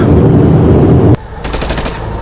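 Gunfire rattles during an explosion attack in Kabul, a loud dense burst of rapid shots that cuts off abruptly, followed by a quieter string of several distinct, echoing cracks.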